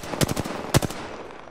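Automatic weapon fire in Apex Legends comes in two quick bursts of several sharp, rapid shots each, close and loud, with a short gap between them.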